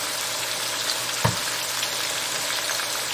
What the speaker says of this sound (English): Now I'm gonna add a little bit of this chili paste